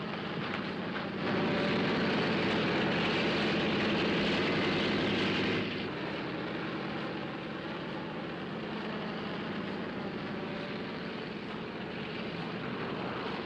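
Airplane engines drone before takeoff, a steady and fairly loud hum that swells for a few seconds and then settles lower, with no voices.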